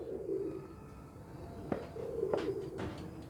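A pair of fancier's pigeons, a male and his female, coo in low, soft, repeated phrases close by, with a few faint clicks and rustles in the background.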